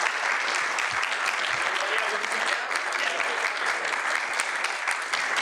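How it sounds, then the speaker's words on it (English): Audience at the close of a St John's at-large councillor debate applauds continuously, a dense even clapping from a sizable indoor crowd at steady loudness for several seconds. "one big round of applause for everyone"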